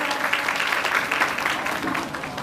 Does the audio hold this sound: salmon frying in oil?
no